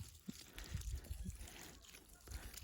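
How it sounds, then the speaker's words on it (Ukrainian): Water from a barrel trickles onto strawberry plants during watering, a faint close splashing dribble with small uneven gurgles and drips, quiet and continuous. "Полуничку поливаю кожних 2-3 дні, якщо нема дощу."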